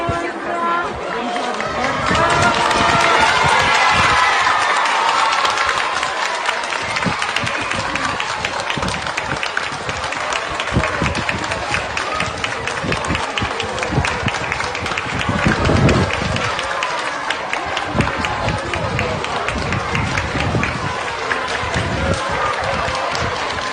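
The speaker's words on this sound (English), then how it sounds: "They're just cheering and waving flags and singing." A crowd in Italy greets arriving Ukrainian girls with cheering, clapping and singing, a continuous lively din with bursts of applause and shouts, voices talking and calling throughout.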